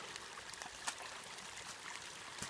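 A stream along the upper Starr trail flows as a faint, steady wash of water, with small scattered splashes and no voices.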